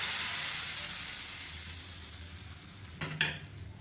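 Mustard seeds, cumin and curry leaves sizzle in hot ghee as a tempering, a close, loud and steady crackling hiss that slowly fades before a brief clatter of stirring near the end.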